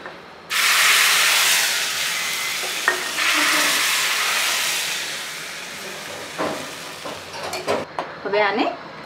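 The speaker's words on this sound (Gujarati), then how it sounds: "હવે આને થોડીક વાર ઉકળવા દઈશું, લગભગ 5-7 મિનિટ, તાકી જે તુવરના દાણા છે એ ચડી જાય" A pot of kadhi with pigeon peas and curry leaves cooks on low heat, giving a steady close hiss and bubbling that begins abruptly, fades slowly, then breaks into a few clinks and stirring sounds near the end.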